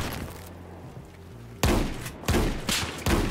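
Shotgun blasts in the Battlefield 4 video game: a quieter patter of distant gunfire gives way to about four loud, sharp, close booms in quick succession, with no talking.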